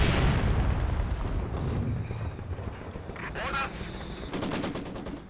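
Heavy mortar shells strike hard amid rattling machine-gun fire in a Company of Heroes 2 battle, with a sharp blast near the middle and another loud burst near the end over a steady din of combat.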